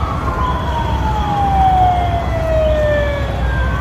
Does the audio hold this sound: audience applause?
no